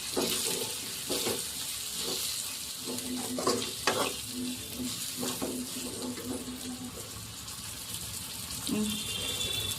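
Onion and tomato masala with red chilli and coriander powder sizzling in a pan for pea curry, with repeated scraping and stirring strokes over a continuous frying hiss, close by.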